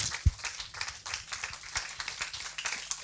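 Church congregation clapping together in acclamation during a French-language service, a steady patter of hand claps with one louder thump near the start.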